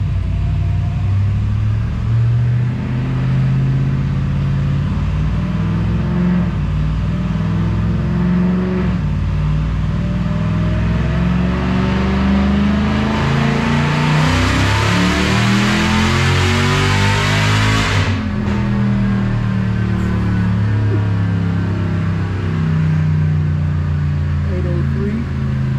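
Dodge Hellcat engine built toward 1,000 horsepower on a dyno pull, a loud continuous roar climbing steadily in pitch to a screaming peak before a sharp cutoff to a lower rumbling idle.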